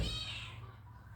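A cat gives a single drawn-out meow close by, fading out after about half a second into quiet room noise.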